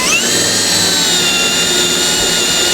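A power tool whirs steadily and loudly throughout, with a high sustained tonal whine, during riveting work on a 2023 motorhome assembly, close and alone without voices.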